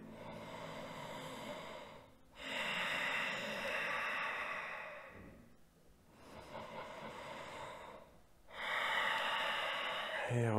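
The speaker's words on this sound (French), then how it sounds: "Pensez à la respiration Ujjayi dont on a parlé tout à l'heure" Slow Ujjayi breathing during a yoga class: long, hissing, ocean-like breaths drawn through a narrowed throat, each lasting a few seconds with brief pauses between, close but soft.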